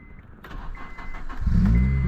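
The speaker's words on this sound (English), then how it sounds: "Yes! We have ignition!" A car engine cranks on a spare key after the original key was drowned, then catches and settles into a loud, steady running rumble.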